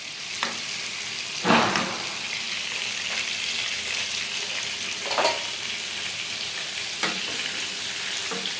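Mutton kofta fries in a pan with a steady, close sizzle throughout, broken by a few louder stirring or spatter bursts; no talking.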